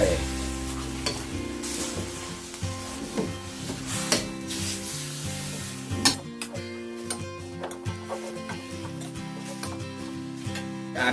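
Beef stir-fries hard in a hot pan as flames flare up, giving a loud continuous sizzle with scraping strokes of stirring and sharp spitting bursts.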